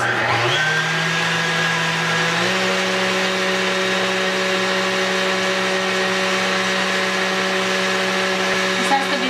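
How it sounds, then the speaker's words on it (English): Stand mixer with whisk attachment whipping egg whites, a loud steady motor whine that steps up in pitch as speed increases early on, then runs constant. "So we place the whisk attachment to the machine and we are going to start whisking the whites"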